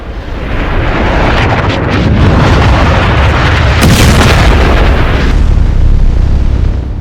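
A bunker buster bomb strike at Isfahan, heard as a continuous loud, rumbling roar with heavy low boom and wind-buffeted distortion, sustained throughout with a brief sharper burst midway, no voices.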